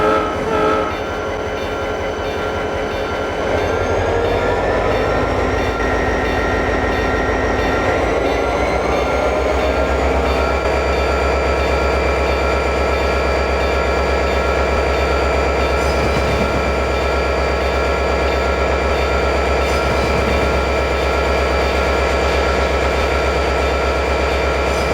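A Pennsylvania Railroad Broadway Limited diesel train pulls away, its engine drone climbing steadily in pitch over the first ten seconds, then holding a loud, continuous rumble with rail noise and a possible horn, close by and with no voices.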